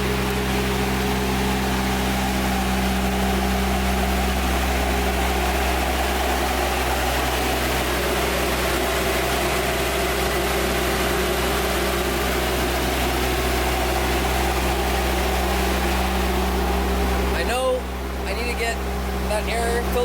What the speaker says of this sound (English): So, it's running pretty good, idling pretty high.